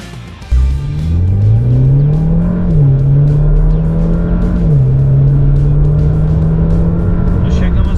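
A Ram Rampage pickup with a 272-horsepower engine accelerates hard on a test track, bursting to life after half a second into a loud, close engine roar that climbs in pitch, shifts, then holds a steady powerful drone.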